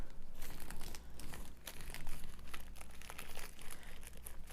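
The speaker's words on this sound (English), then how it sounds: "you can take a BPA-free plastic bag" A BPA-free plastic bag crinkles and rustles up close as it is pushed into a fermenting jar, a dense run of crackling and scrunching that carries on throughout with no speech.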